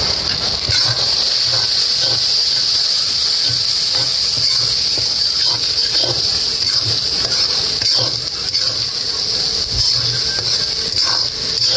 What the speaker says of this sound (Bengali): মশলা কষানো হইতেছে, কত সুন্দর দেখা যায়।